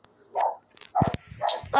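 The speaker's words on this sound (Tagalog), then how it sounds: "Natahol yung aso namin." A dog barks several times close by, short sharp barks in quick succession with brief pauses between them, heard in the early morning during Minecraft play.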